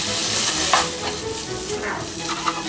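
Bacon browning in a hot pan gives a dense, continuous close sizzle with small crackles and a few utensil scrapes, fairly loud and steady throughout, with no voices.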